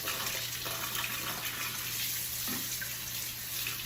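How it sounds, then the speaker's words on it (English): Tap water runs steadily while a juicer basket is rinsed beneath it, a continuous close splashing rush with faint knocks as the basket moves in the stream. "I rinse the basket out, see that?"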